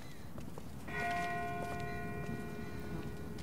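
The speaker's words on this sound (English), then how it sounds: "That's not the same bell as before. This one's further off." A distant church bell strikes once and its ringing tone lingers and fades over a low ambient rumble in The Walking Dead video game.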